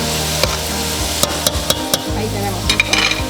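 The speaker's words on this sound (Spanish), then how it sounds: "Lo voy a mezclar bien" A spoon stirs arroz con pollo with carrots and peppers in a hot pot, with continuous sizzling and several distinct scraping knocks against the pot.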